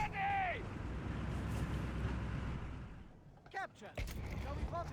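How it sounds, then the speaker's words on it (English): Mortar half-track shelling in Company of Heroes 3, a sustained rumbling barrage with wind-like noise followed by sharp, scattered impacts near the end, heard under a commentator's voice. "Mortar half-tank bombarding the mortar."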